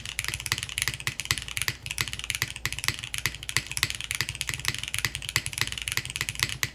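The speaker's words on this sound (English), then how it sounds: "I think the sound on this keyboard's very well rounded." Fast, steady typing on a Finn 60XT mechanical keyboard with gasket mounting, a dense run of crisp, close clacks and taps with occasional heavier strikes, no voices.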